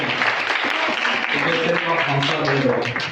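Applause from a quiz audience after a correct answer at an Easter quiz competition, a dense steady patter of clapping mixed with voices throughout.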